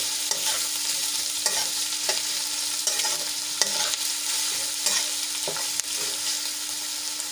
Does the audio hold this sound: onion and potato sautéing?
yes